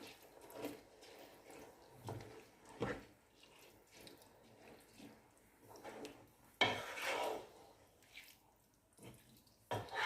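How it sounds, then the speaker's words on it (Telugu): Rice for mutton pulao being gently stirred in a pot, with soft scraping and light clinking of a spoon against metal at irregular intervals, a louder rustling stretch midway, no talk. "ఇప్పుడు మనం రైస్ విరగకుండా కొంచెం జెంటిల్గా స్మూత్గా మెల్లగా కలుపుకుందాం."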